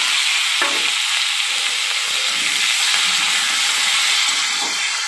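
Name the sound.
raw tomato frying with chillies in pan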